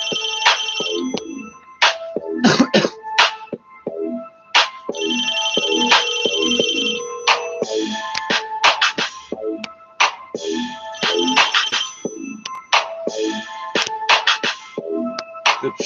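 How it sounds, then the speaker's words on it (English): A phone ringtone of chirping, warbling bird calls repeats in quick trilling bursts and sustained whistled notes, loud and close for about sixteen seconds with no talking. "The chirping, warbling bird sound is the phone."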